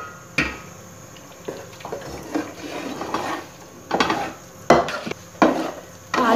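Chana dal with melted sugar stirred in a pan for halwa: repeated knocks and scrapes of a spoon against the metal, uneven in rhythm and fairly close, with faint background noise and no speech.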